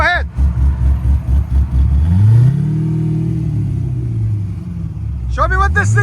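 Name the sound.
2003 Ford Mustang SVT Cobra supercharged V8 exhaust revving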